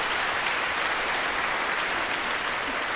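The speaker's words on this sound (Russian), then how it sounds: "Ну, поаплодируем." Dense, even applause from an audience at the Moscow Conservatory anniversary celebration, sustained hall-wide clapping for three seconds with no talking over it.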